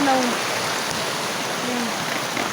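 Rushing flood water gives off a steady, loud, broadband hiss and roar that runs unbroken for about two seconds, with a few brief tonal sounds near the start.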